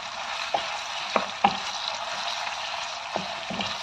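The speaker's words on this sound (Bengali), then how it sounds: "এখন কিছুক্ষণ তেলের মধ্যে আমি পেঁয়াজ এবং রসুনটাকে ভেজে নেব" Chopped onion and garlic frying in soybean oil in a frying pan give a steady, close sizzle, broken by a few sharp clacks of stirring.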